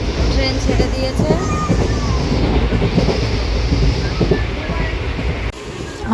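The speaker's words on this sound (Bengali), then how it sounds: "ট্রেন ছেড়ে দিয়েছে।" A passenger train pulls out of a station near Siliguri, heavy rumbling and rhythmic wheel clatter on the rails sounding loud and close throughout, with faint voices mixed in under the noise.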